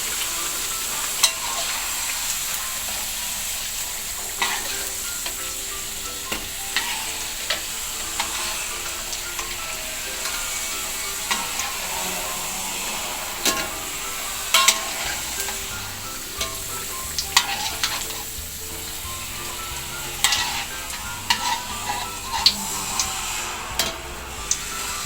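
Crispy potato perkedel patties frying in hot oil, a continuous crackling sizzle with scattered ticks and clatters as the patties are turned now and then, steady and close without talk.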